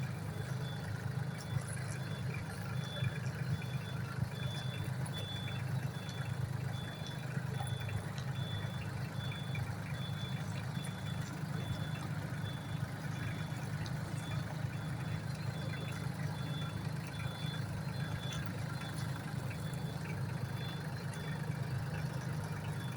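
A Solis 26 mini tractor engine idles and chugs steadily nearby in third reverse gear while a repeating reversing beep sounds throughout.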